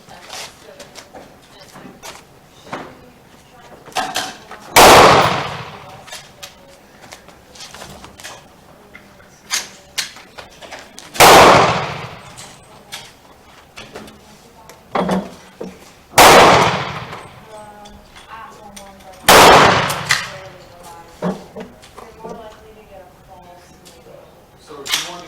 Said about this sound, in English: all of the action that's going on next to me, it's just going to be me shooting